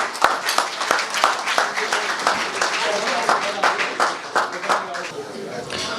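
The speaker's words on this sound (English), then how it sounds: "please give a round of applause for everybody here at the building" An audience at a baseball awards community event claps for the venue staff: loud, sustained applause with sharp individual claps near the start, continuing steadily throughout, with voices and cheers mixed in.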